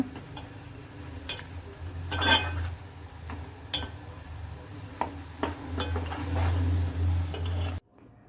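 Chilli masala is stirred in a pan for a cashew masala curry, with repeated clinks and scrapes of a utensil over a low sizzle and a steady background hum, close and moderately loud.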